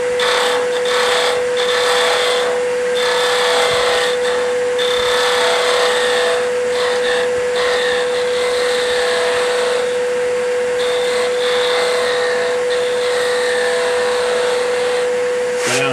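Skew chisel shaving wood on a lathe, a steady continuous whirring hiss with a constant motor hum underneath, loud and close throughout with small fluctuations as the cut shifts.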